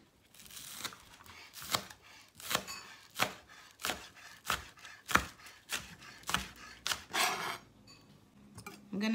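Knife chopping flat leaf parsley and green onions on a cutting board while preparing a sweet plantain and salt fish stew, a steady series of crisp close chops, roughly one per second, with no talking.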